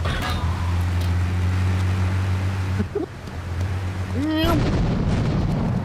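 Grenade blasts in Grand Theft Auto III: loud booming explosions over a steady low game drone, with a sharp burst and rising whine near the end.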